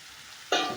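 Pumpkin pieces hit a hot pan for kumro bhaja, cutting through near-quiet with a sudden, loud sizzling burst that holds steady to the end.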